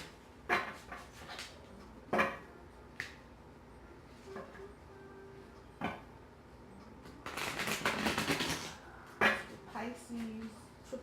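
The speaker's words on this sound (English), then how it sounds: "Let me shuffle these up again" Tarot cards are shuffled in a few separate bursts of quick riffling and tapping, with a longer dense flutter partway through, close and moderately quiet, and a faint voice in the background.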